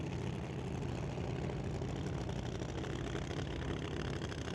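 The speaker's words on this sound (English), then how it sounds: "doing a little more of a traditional burnout from a standstill" A drag race car doing a burnout from a standstill at a Doorwarz event, heard as a constant heavy engine roar held at high revs for several seconds, loud and unbroken, with no talking over it.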